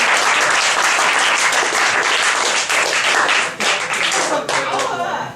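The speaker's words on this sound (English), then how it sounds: "So give a round of applause to Cody." An audience at a school event gives loud, sustained applause, a dense wash of many hands clapping with scattered cheers mixed in, briefly dipping before carrying on.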